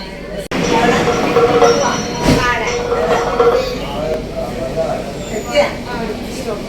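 A Kochi Metro train rumbles steadily along the track with a continuous mechanical roar, while a recorded announcement voice speaks over it.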